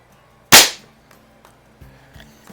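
Single sharp air rifle shot from a Crosman 3100 or Feinwerkbau 124 springer, a crisp loud crack that decays quickly, followed by faint soft clicks and handling sounds.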